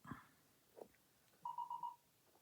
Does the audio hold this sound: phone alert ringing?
yes